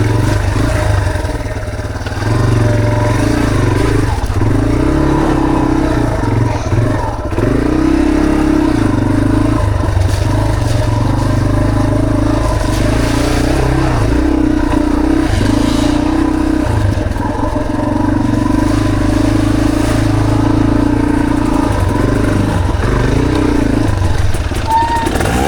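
Motorcycle engine held at a steady drone with throttle blips, loud and continuous throughout, with clattering over a rough trail in a flood-damaged valley.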